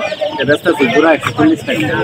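Chicks for sale at a village market, a dense run of shrill, repeated peeping and clucking close by, with people's voices mixed in.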